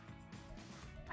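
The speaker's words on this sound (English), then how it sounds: "Sorry if my dogs are bothering you in the background" Pet dogs barking and yipping in another room, a few faint, muffled barks at a distance with no speech over them.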